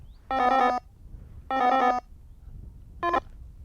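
An AGEone carp fishing bite alarm receiver sounds electronic beeping tones: two longer bursts and then a shorter one, clear and fairly loud over a quiet background.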